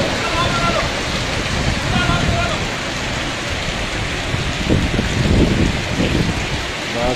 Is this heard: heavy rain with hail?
yes